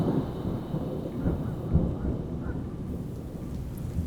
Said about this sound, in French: La pluie martèle les toits, comme si le ciel se vidait d'un seul coup.